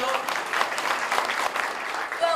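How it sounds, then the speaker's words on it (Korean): An audience at a public education forum in Incheon claps together in a full, even burst of applause that carries on without a break to the end. "박수로 함께 해주시죠"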